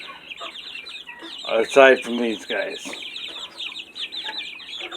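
Buff Orpington chickens in a coop cluck and squawk at close range, with a loud burst of excited calls in the middle amid steadier background clucking, and someone speaks briefly over them.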